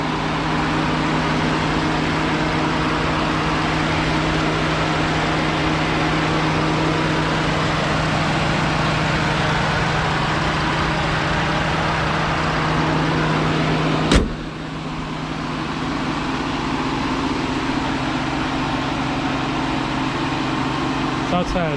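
Stock Ford F150 pickup truck engine idling with a steady, even low hum and constant drone, interrupted by a single sharp click midway, while someone talks over it.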